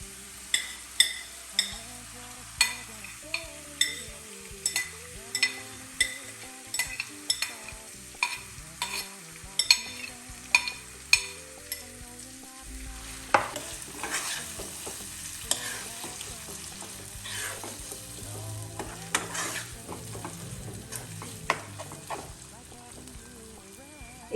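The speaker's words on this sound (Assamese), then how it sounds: "মছলাখিনি 2 মিনিট ফ্ৰাই কৰি লোৱাৰ পিছত আমি ইয়াতে যোনখিনি আমাৰ ভাজা পিঁয়াজ আছিলে সেই পিঁয়াজখিনি আমি ইয়াতে দি দিম" Spice masala with fried onions frying in a pan for chicken roast, a spatula scraping and stirring in quick regular strokes over a continuous sizzle that grows busier and more crackly as the cooking goes on.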